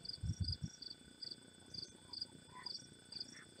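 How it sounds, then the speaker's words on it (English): Crickets and cicadas chirp in a faint, steady pulsing chorus with evenly spaced high trills, and a brief low thump near the start. "Kind of noisy here right now too, with lots of crickets and cicadas"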